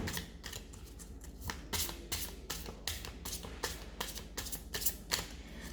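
Tarot cards are shuffled in quick repeated riffles and flutters, crisp, close bursts with no talk over them.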